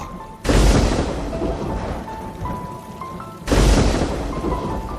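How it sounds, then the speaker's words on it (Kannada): Steady rain falls while two deep thunder booms roll in a few seconds apart, each swelling loudly and then fading back into the downpour. "ಮಳೆ"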